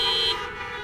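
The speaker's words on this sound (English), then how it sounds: "why don't you give me a little honk of recognition" A car horn at a drive-in theater on Mother's Day sounds one loud, steady, close honk that cuts off abruptly after a moment, leaving a low hum.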